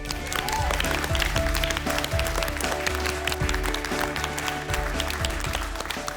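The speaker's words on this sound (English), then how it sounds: "a big, big round of applause for all of our top chefs." Sustained applause from a crowd on MasterChef Australia All Stars fills the space, dense and steady throughout, with some background music humming underneath.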